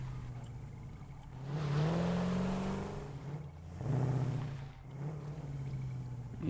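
A car engine in the video game Satisfactory hums and rises in pitch as it accelerates, swelling twice with revving surges, no voices.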